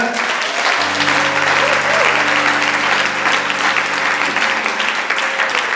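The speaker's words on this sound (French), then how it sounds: "nous allons donner des acclamations au Seigneur" A church congregation breaks into loud, sustained applause during a Catholic service, dense clapping filling the room with a low organ-like tone held underneath for several seconds.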